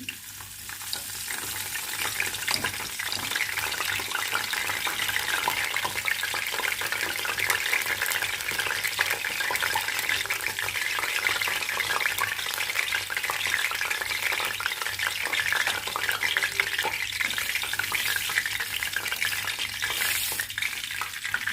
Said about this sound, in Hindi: इसमें मैं करी पत्ता डाल रही हूँ